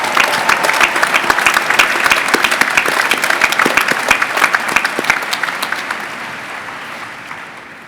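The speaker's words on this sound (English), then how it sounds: "please join me in a round of applause for the faculty and staff members who have guided and supported your learning here" A large graduation crowd applauds faculty and staff at a university final exercises ceremony, with sustained dense clapping that stays loud and even before gradually thinning and fading toward the end.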